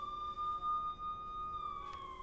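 A siren holds a steady high tone over low traffic rumble, loud and unbroken throughout with no voices.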